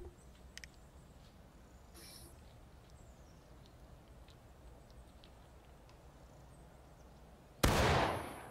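Musket gunfire at a firing drill in the Civil War game War of Rights: faint scattered pops and distant cracks over an outdoor hush, then a loud close volley near the end that rings out and slowly decays.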